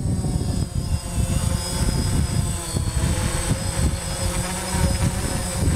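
A DJI Phantom drone hovers and climbs on a windy day, its propeller whine holding steady and close throughout, with wind buffeting roughing up the steady buzz.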